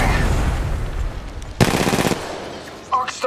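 Rapid automatic gunfire in a video game, a dense burst of shots lasting about half a second amid steady game sound, followed by a few electronic beeps.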